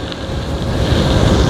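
Strong wind rushes and buffets against the microphone while riding a Varstrom 48V 750W geared hub e-bike into roughly a 10 mph breeze, a loud continuous roar that swells slightly with a gust.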